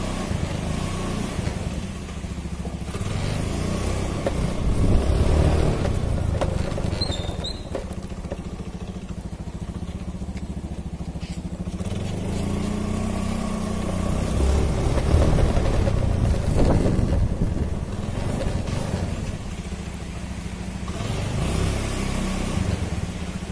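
A motorcycle is taken for a test ride after its speedometer gearbox and cable were replaced, giving a steady, fairly loud engine drone with road and wind rumble and a few swells, and no talking.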